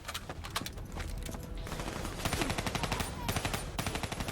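Kuda submachine gun fire in the Call of Duty Black Ops 3 campaign, rapid automatic bursts rattling close and loud in a steady rhythm, with short pauses between strings of shots.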